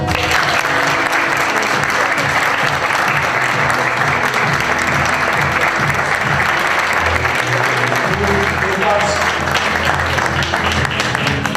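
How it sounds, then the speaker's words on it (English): A crowd at a fleet car awards ceremony applauds the Volkswagen Golf as the C segment winner. The clapping is loud, dense and steady, and it carries on without a break for the whole stretch. "please, a big round of applause"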